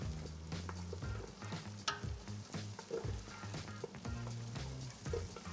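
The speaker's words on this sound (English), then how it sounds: "Nicely stewing." Food stewing in butter and oils in a pan, a steady close sizzle and bubbling with stirring scrapes, no talking.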